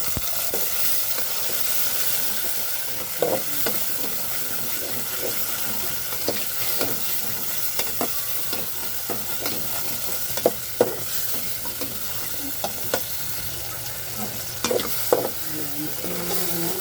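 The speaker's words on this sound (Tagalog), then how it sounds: "Igigisa lang natin guys." Garlic, onion and tomato sauté in a casserole pan, a constant bright sizzle with intermittent sharp scrapes and knocks of a spatula stirring, loud and close with no speech.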